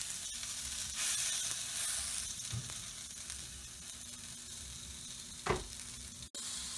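Meat sizzling in a hot pan after being flipped, giving a steady crackling fry with a few louder pops and a sharp clank near the end, and no talking.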